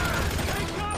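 A continuous, dense rattle of gunfire from a shootout in GTA 5, sounding rapid and sustained at moderate loudness.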